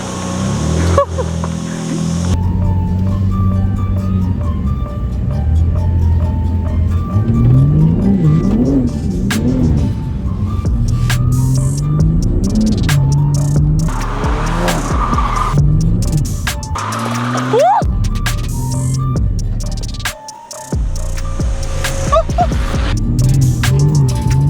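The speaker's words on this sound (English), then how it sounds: "That's how you call a perfect drift." A rebuilt BMW G80 M3 drifting, its engine revving loud and close in rising and falling surges with bursts of tire noise, the roar nearly continuous apart from brief dips.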